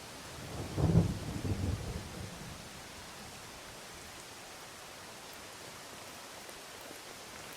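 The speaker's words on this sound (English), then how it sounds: "I can barely see anything squinting past the battering rain." Heavy rain pours steadily as a low roll of thunder swells and fades near the start, then a constant broadband hiss of downpour continues alone.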